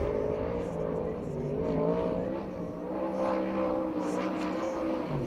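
Todd Hunsacker's 360-cubic-inch sprint car lapping the Perris dirt track, a loud, buzzing engine howl that rises and falls in pitch as it revs through the corners and keeps roaring throughout.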